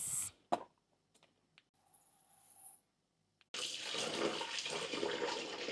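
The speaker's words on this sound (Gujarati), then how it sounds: "તો રાઈસને પણ હવે પાણીમાં પલાળી દઈએ," Water pours onto rice in a vessel to soak it, a sudden steady rushing gush that starts after a few seconds of small knocks and quiet, then runs on continuously.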